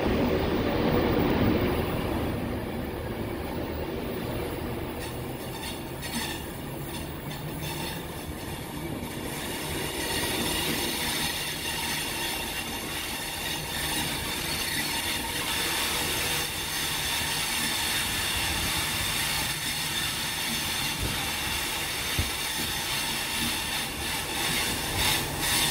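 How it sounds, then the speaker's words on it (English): A Class 390 electric train on the Glasgow Central to London Euston service pulls away from platform 4 at Carlisle station, a steady close, loud rumble of wheels and traction with faint squealing, continuous throughout and without speech. "Glasgow Central to London Euston. Leaving platform 4 at Carlisle."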